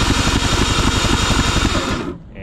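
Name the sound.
two-stroke outboard engine cranked for spark test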